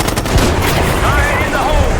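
Rapid gunfire in a Call of Duty: Black Ops 6 campaign battle, dense automatic bursts crackling continuously and loudly over a rumbling combat backdrop, with faint voices mixed in.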